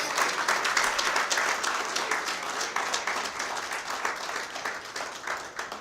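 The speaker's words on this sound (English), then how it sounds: "give them another round of applause" Audience applause at a ceremony marking the change in chairmanship of the ECCB Monetary Council, sustained even clapping from a sizeable crowd in a hall, holding steady throughout.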